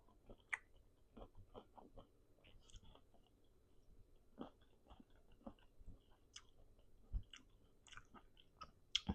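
Close, quiet crunching as someone bites and chews unripe mango with sambal, a steady run of small crisp crunches and mouth sounds spread over several seconds in an otherwise silent room.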